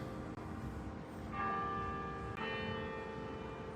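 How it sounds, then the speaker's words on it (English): Church bells ring out at Carillon Park in Dayton, with a steady bell tone that swells louder partway through, sustained and resonant over a noisy background. "Ah, the bells."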